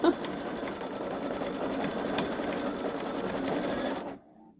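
A Baby Lock Solaris Vision embroidery machine stitches out a design, a steady close mechanical whir with rhythmic needle clatter that stops abruptly near the end, leaving near silence.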